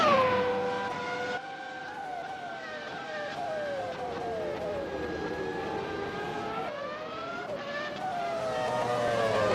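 Race cars in the McLaren Heritage Trophy at Albert Park, a historic racing event: steady, loud engine drone with rising and falling pitch as cars accelerate and shift, continuous throughout with faint commentary underneath.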